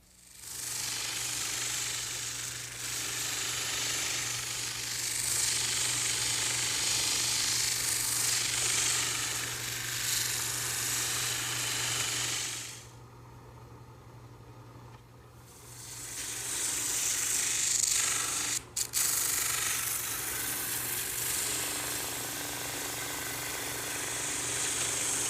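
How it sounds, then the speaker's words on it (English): A drum sander smooths the ends of wooden pieces in a woodworking shop, a loud steady grinding whir broken by a pause of a few seconds before the machine runs again. "now I'm ready to smooth out the ends on the drum sander"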